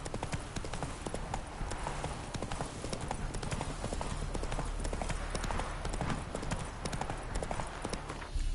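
Roach the horse from The Witcher 3 gallops at a fast, even pace, the hoofbeats drumming steadily without a break.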